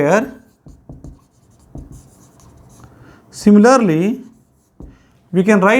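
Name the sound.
writing equations on a board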